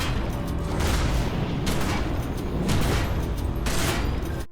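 Rapid shotgun blasts from Secret World Legends, fired in a dense, continuous burst of loud booming shots with a meaty thump, overlapping almost without pause for several seconds.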